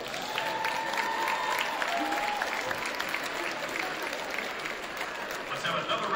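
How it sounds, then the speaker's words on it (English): Applause in a high school gym for the 2023 Reitz basketball seniors, steady clapping from the crowd with a few shouts and whistles over it. "Let's have another round of applause for the 2023 Reitz Basketball Seniors."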